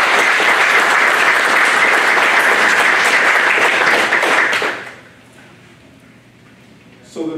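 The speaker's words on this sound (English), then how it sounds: "just give a round of applause" Loud, dense applause from a conference audience rings out for about five seconds, then stops abruptly and leaves a quiet room hum.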